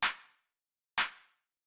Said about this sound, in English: Pretty simple stuff, just sort of like a punchy, sort of hard-hitting house clap.